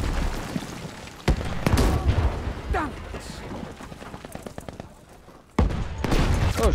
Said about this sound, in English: Oh shit, he's got a fucking cannon over there.